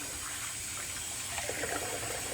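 Tap water runs steadily into a sink after shaving, a continuous hissing gush at moderate level with no talking.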